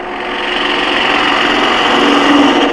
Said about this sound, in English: First I'm going to drill.